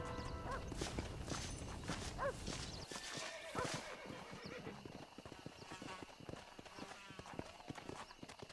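Horse hooves clip-clopping in the Red Dead Redemption video game, an irregular run of hoof knocks with a neigh early on, mixed with game ambience and a faint voice.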